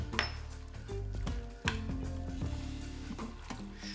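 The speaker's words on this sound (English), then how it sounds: "And we'll mix that up." Spoon clinking and scraping against a pot while minced sage and smoked paprika are stirred into pasta, with steady close knocks and rattles and a sharper clank midway.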